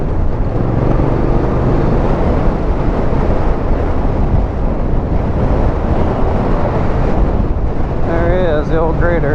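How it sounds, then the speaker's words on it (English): Strong wind buffets the microphone in a constant low roar while driving a corrugated road across Badwater Basin near road work, drowning nearly everything, with a voice breaking through toward the end. "so windy as all hell"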